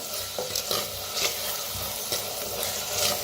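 Dal roasts in a clay pot with garlic and green chilli paste, giving a steady sizzle broken by repeated scraping stirs close by.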